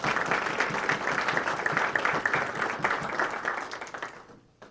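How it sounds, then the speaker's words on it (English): A room of attendees at a Kenosha leadership academy announcement applauds the city mayor, steady dense clapping that tapers off near the end. "Let's give him a round of applause."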